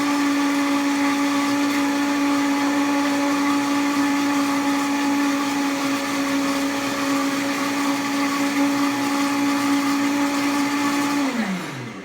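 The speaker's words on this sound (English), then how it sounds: "We're going to blend that up." A blender runs steadily, blending bananas for vegan apple butter banana bread: a loud, even motor whine that holds for about eleven seconds and then winds down as it is switched off.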